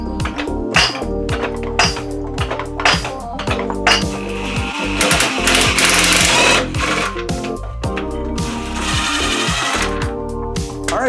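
Rapid, buzzing mechanical rattling from a power tool removing the last bolts from a 5.3L Yukon engine, running loud and close in long continuous bursts with brief pauses.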